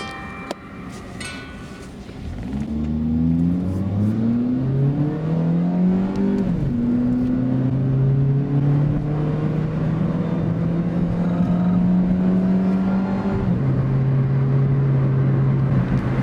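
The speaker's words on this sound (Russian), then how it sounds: "Вот у нас режим бензин. И мы едем бензин." A Hyundai i10 1.1 with a Stag gas system, running on petrol, pulls away and accelerates. Its engine rises in pitch through the gears in clear steps, heard loudly from inside the car with no talk.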